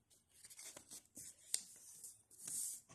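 A paper circle is folded in half, giving soft, faint crinkles and rubbing swishes of paper at close range, with no talking.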